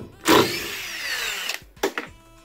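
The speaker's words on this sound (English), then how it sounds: "So let's just remove the screws." Dewalt 20V Max impact driver backing out a 1.5 inch screw, a short loud whirring burst followed by a quieter trailing spin and a couple of brief sharp clicks, close up.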